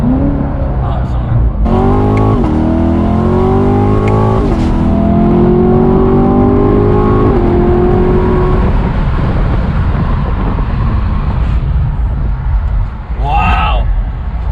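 Revving hard, a 2017 C7 Corvette Grand Sport rips through rising engine sweeps followed by loud crackling exhaust pops, close and dominant, while a person exclaims over it between bursts.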